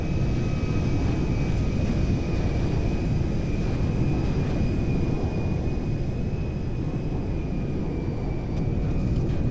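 A loud, continuous engine roar and rushing drone fill the whole stretch as an IL-76M cargo plane, loaded with cargo and with no working landing gear, lines up for a belly landing on a runway in GTA 5.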